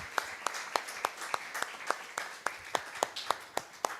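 A church congregation claps along to a steady beat, crisp rhythmic claps at roughly even intervals, fairly quiet and somewhat distant in the room.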